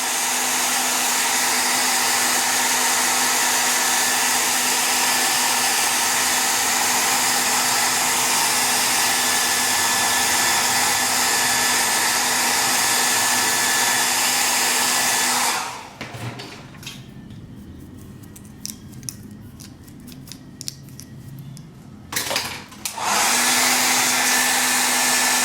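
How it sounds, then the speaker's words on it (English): A partly broken hair dryer whirs steadily at close range, cuts out for several seconds of near quiet with small handling noises, then starts blowing again. "my blow dryer is a little broke"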